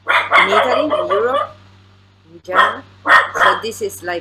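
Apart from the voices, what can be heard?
dog barking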